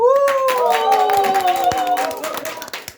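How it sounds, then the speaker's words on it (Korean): A school morning assembly crowd, gathered on January 3, gives a loud, sustained rising shout over brisk clapping. The cheer is close and dense, then it thins and tapers off near the end. "여러분의 뜨거운 함성과 박수 소리로 1월 3일 아침 조회를 시작하겠습니다"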